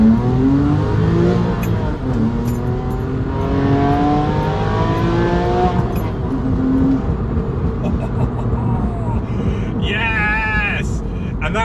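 A Porsche 911 997.1 Carrera 4S with its exhaust valve closed accelerates hard, the engine note climbing steadily in pitch as it revs up, loud and continuous throughout.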